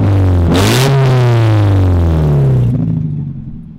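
A stupid-loud Mazda Miata engine revs hard up close, climbing sharply and holding a raspy roar before dropping off and fading as it shuts down, with no one talking.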